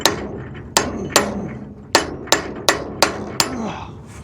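Bearings hammered onto a trailer axle with a bearing kit: about nine sharp metallic strikes, irregular at first and then in a quicker steady rhythm, loud and close with no talking.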